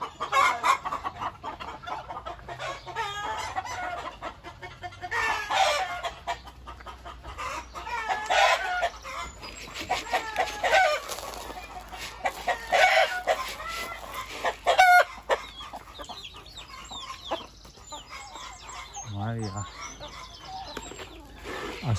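Chickens cluck and squawk close by with a rooster crowing in bursts, some wing flapping and scattered busy farmyard calls throughout.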